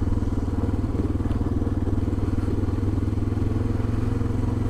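Motorcycle cruising on forest roads in Maine during a late spring trip, a steady low pulsing engine drone with rhythmic exhaust throb, close and continuous with no break.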